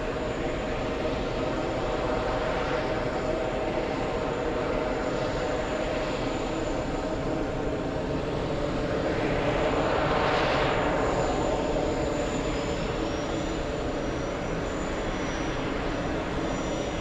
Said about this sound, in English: there goes Lufthansa exiting, crossing the runway very, very quick